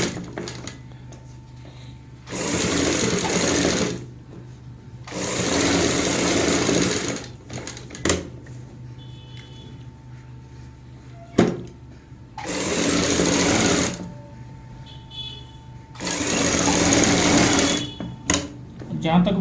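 Sewing machine stitching alongside piping on a garment with buckram, running in several loud bursts of a few seconds each with quieter pauses between, a steady background hum underneath.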